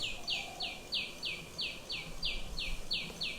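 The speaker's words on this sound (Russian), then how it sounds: "The bird making that sound is a little tiny sunbird." A tiny sunbird in Vrindavan calls in a fast, regular series of high, thin chirps, about three per second, clear and steady over faint outdoor background.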